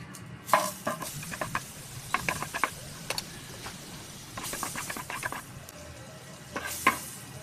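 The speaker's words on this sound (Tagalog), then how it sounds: "Ngayon, magpiprito na tayo. Ilagay tayo ng margarine." Margarine frying in a pan: a low, steady sizzle under intermittent clinks and scrapes of a utensil against the pan, coming in short bursts, fairly close.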